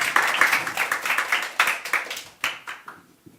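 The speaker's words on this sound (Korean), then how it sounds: "박수 한번 부탁드리겠습니다" An audience at an elementary school parents' results-sharing event on safe routes to school bursts into applause, a brisk round of many hands clapping that tapers off into a few scattered final claps.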